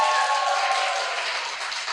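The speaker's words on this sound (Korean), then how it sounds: "박수 한번 제드릴게요" Audience applause, a dense steady wash of many hands clapping together, fairly loud and close, fading slightly over two seconds with no talk over it.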